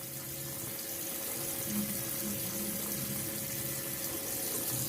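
Running tap water at a sink while hands are scrubbed before home dialysis, a steady continuous splash and hiss held close and even throughout, with no voices.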